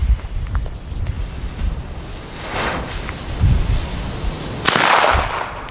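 Several loud bangs from EL Gato Masclet firecrackers burst out one after another, sharp cracks with a hissing, crackling tail, heard outdoors with no talking.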